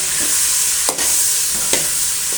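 Plantain pieces for a gravy sauté in a pan with a loud, steady sizzle heard up close, broken by two brief scraping strokes of a spatula, with no speech.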